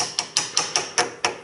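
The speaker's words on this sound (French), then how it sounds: "Là, tu l'enfonces un peu au marteau." Hammer taps driving a motorcycle gear selector oil seal into place during a seal replacement: seven sharp, evenly spaced metallic strikes in quick succession, close and clear with no talk.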